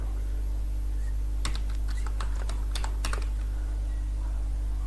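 Keystrokes of someone typing web design code on a computer keyboard, a quick cluster of clicks mid-clip over a steady low electrical hum, with no voices.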